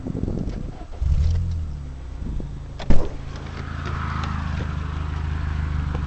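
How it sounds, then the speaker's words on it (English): A car engine cranks and catches about a second in, then settles into a steady, rumbling idle, with one sharp knock partway through and no talking. "we'll start the engine now for you"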